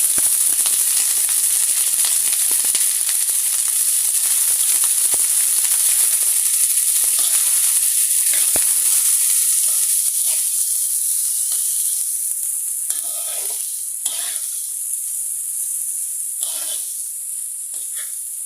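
Cabbage tossed into a pan of onion and garlic already fried in oil, sizzling loudly and steadily throughout, with occasional stirring scrapes and bursts of hiss toward the end.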